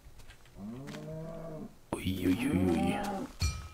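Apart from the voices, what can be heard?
cows mooing in the video game Minecraft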